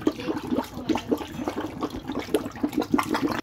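Leftover water is forced out of a gas pipeline by built-up pressure, spurting in repeated gurgling, splashing bursts at an uneven rhythm, close and fairly loud.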